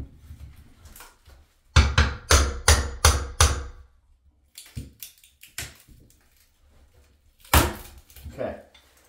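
Hammer claw prying wooden door trim: a burst of four or five sharp, loud knocks and cracks in quick succession, then scattered softer creaks and taps, with another sharp hit later, close up and loud.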